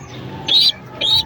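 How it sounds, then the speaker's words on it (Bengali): Racer pigeons, a pair kept with their young, give two soft cooing calls close by, each about a quarter second long, with a short pause between and a quiet background. "এখানে এই জোড়াটা হচ্ছে রেসার কবুতর"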